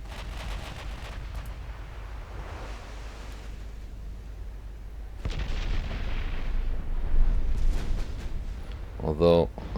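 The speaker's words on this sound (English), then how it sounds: "My heavy cruisers have started opening up on the enemy heavy cruisers." Heavy cruiser guns fire in a naval battle in the warship game Ultimate Admiral Dreadnoughts, heard as deep booming blasts and a rumbling, sea-like wash over a low steady roar, with a sharper burst near the end.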